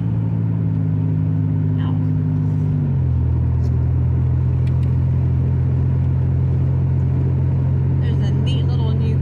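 Grandpa's pickup truck rumbles steadily from inside the cab while riding around on a rainy day, its engine note dropping slightly as it shifts, a low continuous drone with faint road noise and a few brief clicks.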